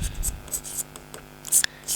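Chalk or marker scratching across a board during a Hindi-language maths lesson on proving irrational numbers, in short scrapes and taps with a faint voice in the background.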